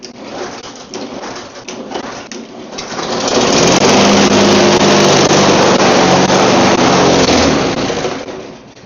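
Small engine on a lawn mower, fuel line and air hose just reconnected, fires up after a quiet stretch, runs loud and steady for several seconds, then dies away.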